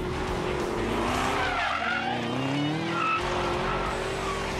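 A 2017 Callaway Camaro SC750, a supercharged Chevrolet Camaro, driven hard on a twisty two-mile road course at Dominion Raceway in Virginia: a loud, steady engine roar with rising and falling revs and squealing tires.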